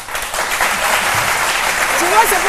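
Studio audience on a French television talk show applauding, a brief burst of dense clapping with a voice speaking over it.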